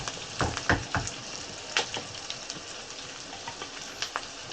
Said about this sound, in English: Let's keep on sauteing it.